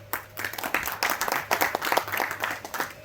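Applause from an audience, a dense patter of many hands clapping steadily and fairly loudly for about three seconds.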